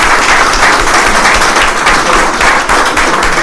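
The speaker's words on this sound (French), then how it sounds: "je voudrais demander à l'assistance de lui donner une vague d'applaudissements" An audience at a book signing event gives a loud, dense round of applause, sustained and close, with many hands clapping at once and no voices heard.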